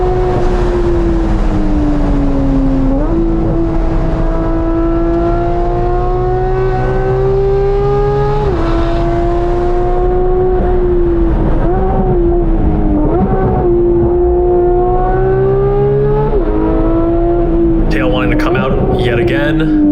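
A 2018 Porsche 911 GT3 (991.2) pushed hard on a track, engine screaming loud and close through repeated rising revs broken by quick shifts and lifts, with a rough burst at the end; someone talks over it.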